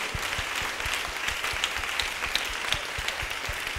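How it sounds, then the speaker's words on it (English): A church congregation claps after a testimony in an Apostolic church service, a steady, fairly rhythmic patter of many hands at moderate volume. "Clap for Jesus."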